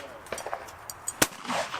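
Several sharp shotgun reports at a clay target shooting competition, distant and spaced irregularly, with one louder nearer shot, set against faint outdoor background noise.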